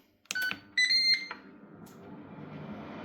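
A Ninja Double Stack air fryer gives several electronic beeps in a quick sequence of bright tones, fairly close, followed by a low fading background hum.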